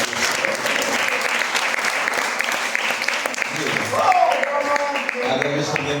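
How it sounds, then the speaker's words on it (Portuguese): A church congregation at a thanksgiving service claps loudly and continuously, with the applause mixed with voices and some sung or called-out tones toward the end. "Dá uma salva de palmas."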